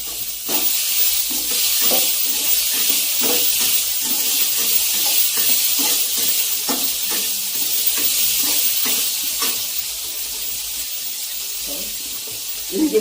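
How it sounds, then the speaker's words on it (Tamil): Tomato and onion with salt sauté in a pan, giving a steady close sizzling hiss broken by repeated scraping stirs of a spatula throughout. "தக்காளி வெங்காயமும் உப்பு போட்டிங்கன்னா சீக்கிரம் வதங்கிடும்."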